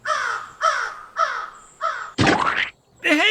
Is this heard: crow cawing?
yes